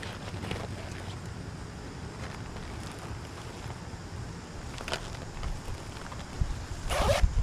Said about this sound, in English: Got the zips right here, Velcro right here, opens up, and we can expand it.